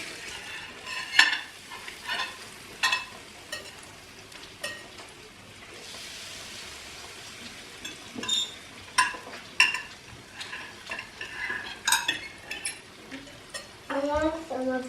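Meat sizzles in a frying pan while a utensil repeatedly stirs and scrapes it, producing irregular clattering bursts over a steady close fry, with occasional talk in the background.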